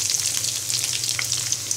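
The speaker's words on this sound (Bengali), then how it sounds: "এবার দিয়ে দিচ্ছি 1 কাপ পরিমাণ পেঁয়াজ কুচি।" Chopped onion sizzles briskly in hot oil with cinnamon, cardamom, bay leaves and cloves. The bright, continuous crackle is close and carries no speech.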